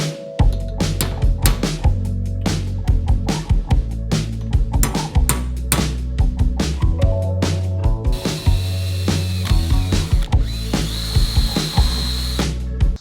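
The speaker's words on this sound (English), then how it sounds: "and I can drill right through it." A power drill whirs loudly in short repeated bursts, its grinding, ratcheting tone biting through a metal pipe close up, pitch shifting as it cuts.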